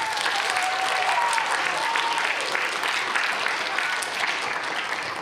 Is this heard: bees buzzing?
no